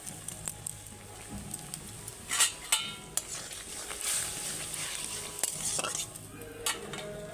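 Cashews and raisins being tipped into a pan of tomato chutney, giving a steady, close sizzle with scattered small taps and pattering drops as the pieces land and are stirred, with no voices.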